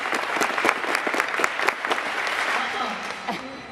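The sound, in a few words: school assembly audience clapping in unison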